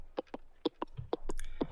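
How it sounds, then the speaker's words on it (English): A percussion loop from Ty Leon's sample pack with a triplet bounce in an 80s-style beat: crisp, close hits in an uneven skipping rhythm, about a dozen strikes played alone with no talk. "So I added a perk loop."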